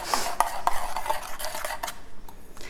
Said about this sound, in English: Now I'm just stirring this, and I'm getting it off the sides while the oil is having a chance to heat